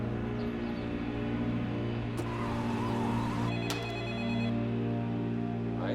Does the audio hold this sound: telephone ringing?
yes